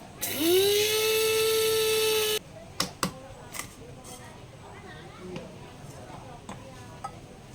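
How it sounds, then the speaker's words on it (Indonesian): Electric mixer grinding sugar into powdered sugar for chiffon cake, a loud whirring whine that rises quickly and runs about two seconds before stopping, then light clinks of utensils. "Jadi harus kita mixer, kita giling dulu seperti ini"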